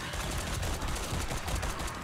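Continuous rapid gunfire in the survival game 7 Days to Die, aimed at planted pipe bombs: a dense, unbroken barrage of loud shots with no talk.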